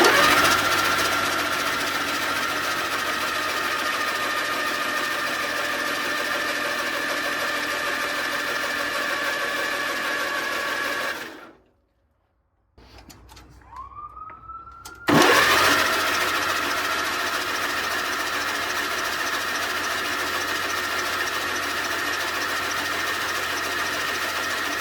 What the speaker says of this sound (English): let's turn it over a little bit more and clear the cylinders and check for spark